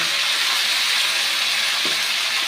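Pumpkin and tomato sizzling in a hot frying pan, a steady loud hiss of frying that holds evenly throughout, with a faint stirring scrape near the end.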